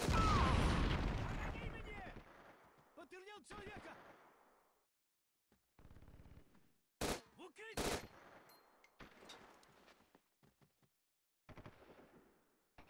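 Single gunshots in Syphon Filter: Dark Mirror on PS5, sharp isolated cracks spaced a second or more apart after a loud opening passage, with a few fainter reports and near-silent gaps between them.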